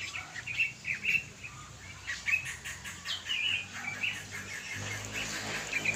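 Two large birds calling back and forth in a forest, seemingly fighting, with repeated chirping cries at moderate distance, some wing flapping and faint insect hum underneath.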